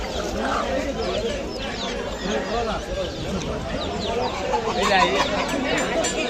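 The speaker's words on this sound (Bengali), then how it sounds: "এখানে দেখছেন বহুত রকমের মুরগি রাখা আছে" Assorted chickens cluck amid the steady hubbub of Basanti market, with a busy crowd murmuring throughout and people talking over the birds.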